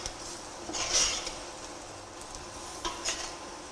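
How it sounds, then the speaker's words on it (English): Masala chicken curry stirred in a pot, with a low sizzle underneath and scraping spoon strokes, plus a few light clinks of metal against the pot, and no voices. "Okay, so you're going to stir that a bit."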